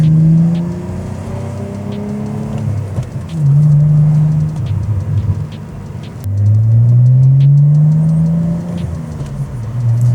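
Cadillac CT4-V Blackwing with an aftermarket exhaust revving, loud deep bursts of engine rumble rising in pitch, two strong revs separated by idling lulls, close and with no talking.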